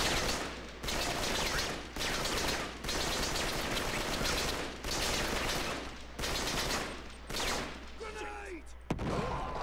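Sustained bursts of AK-47 automatic gunfire in the video game Uncharted 3, loud and close, repeated in rapid volleys with brief gaps between them, ending in a short pause and a final shot.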